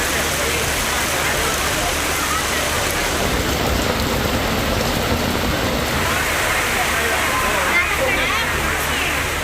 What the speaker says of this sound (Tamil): கொடைக்கானல் மலைப்பகுதியில் 1 மணி நேரத்திற்கும் மேலாக கனமழை கொட்டி தீர்த்தது.